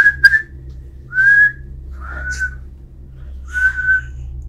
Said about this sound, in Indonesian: Aku kayak nyoba siul di situ